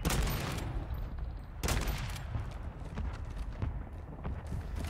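Sniper rifle fire rings out in an online multiplayer shooter. Two loud, sharp cracks land about a second and a half apart over a busy, rumbling battle backdrop.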